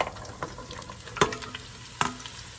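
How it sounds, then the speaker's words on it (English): Onions sizzle in hot oil in a pot for French onion soup, a bright, crackling fry close up with a couple of sharper clanks and scrapes standing out, and no talking. "Nice little sizzle"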